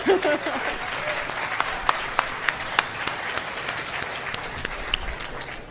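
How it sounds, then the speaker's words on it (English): An audience at a hospital groundbreaking claps steadily, with a few sharper individual claps standing out near the front, while a speaker's voice runs underneath. "you can clap"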